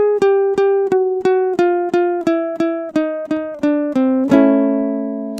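Ukulele notes plucked one by one down the third string, about a dozen evenly spaced tones stepping lower in pitch, each repeated note ringing clearly before a final strummed chord rings out at the end, played alone.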